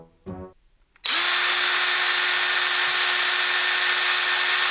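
A power drill in a 1983 slasher film scene spins up abruptly after a short vocal snippet, then runs as a loud, continuous high-pitched whine.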